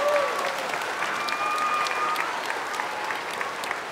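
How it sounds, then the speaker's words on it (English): An audience applauds students at an award ceremony honoring a teacher in Hawaii, a steady, dense wash of clapping that continues evenly throughout. "How about a round of applause for all of you students?"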